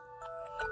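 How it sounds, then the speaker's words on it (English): A phone alarm ringtone goes off indoors at a card-making table, giving a brief, faint run of clear electronic melody notes with no talking. "that was my alarm because I forgot to do not disturb my phone"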